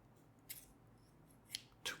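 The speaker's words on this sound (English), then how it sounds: "if you hear scissors, you might think, oh, that sounds a bit foreboding." A pair of scissors snips three times while wrapping a gift, short crisp cuts spaced apart against a quiet, faintly humming background.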